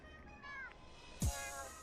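Street cat meowing in the video game Boyfriend Dungeon: a short, clear meow, followed by a brief sharper sound, over quiet background music.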